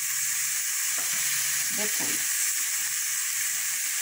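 Pork belly cracklings fry in a pan with a steady, loud sizzle and hiss throughout, broken by a couple of brief stirring scrapes near the middle, while someone speaks a single word.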